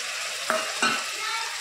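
Tomatoes frying in a pan with ginger garlic paste, a soft steady sizzle with two brief stirring scrapes partway through.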